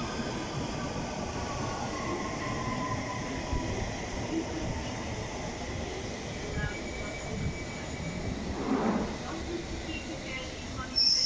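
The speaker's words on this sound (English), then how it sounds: "Metropolitan line going to Baker Street." A London Underground Metropolitan line train rolls into Wembley Park station bound for Baker Street, a steady rumble of wheels and motors that runs the whole time, with faint voices talking over it and brief squeals near the end.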